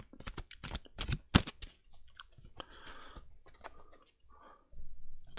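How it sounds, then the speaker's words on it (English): Tarot cards being shuffled at a reading table, a run of quick crisp riffling and tapping clicks, close and fairly quiet, with softer rustling toward the end. "Give the cards a shuffle."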